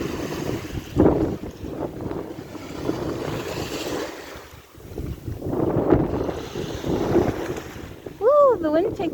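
Wind gusting at a rocky shoreline with shells, rumbling across the microphone in uneven surges and swelling louder partway through, with soft water movement underneath and a short whistling chirp near the end.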